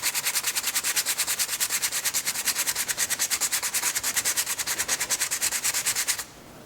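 Rapid, rhythmic sanding strokes rasp against metal, sanding paint down to bare metal, a steady back-and-forth scrubbing that stops abruptly near the end.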